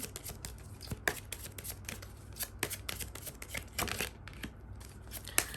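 Tarot cards being drawn and handled during a love reading, with a run of quick papery shuffles, slaps and flicks close by, no talk.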